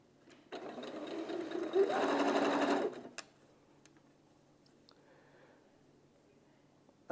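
Sewing machine stitching patchwork pieces with a quarter-inch seam, a single close burst of whirring lasting about two and a half seconds, followed by quiet handling clicks.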